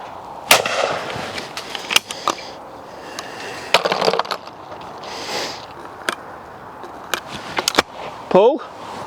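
Shotgun shots at driven clay targets on an outdoor range, several sharp, loud reports in quick pairs with mechanical clicks between them, while someone talks throughout.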